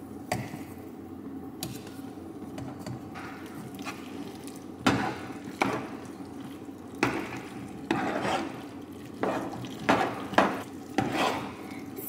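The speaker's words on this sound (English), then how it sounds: "Sound like macaroni in a bowl when she stir it up." Macaroni and cheese stirred in a bowl with a utensil, giving a run of soft scraping and clinking strokes, close and moderately loud, growing sharper toward the end, with no voices.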